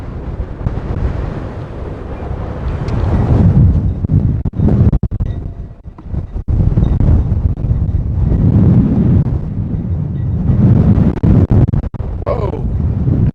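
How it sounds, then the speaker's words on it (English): Strong gusts batter a microphone outdoors in loud, continuous rumbling bursts that swell and ease over several seconds, with a few sharp buffeting knocks and brief dips between gusts. "Oh, that's windy. That blew my gimbal."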